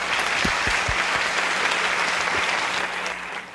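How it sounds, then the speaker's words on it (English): Audience applause for a graduating class at a school graduation ceremony, a steady, dense wash of clapping from a large crowd that holds throughout and eases slightly toward the end. "Please join us in giving a round of applause to our graduating year."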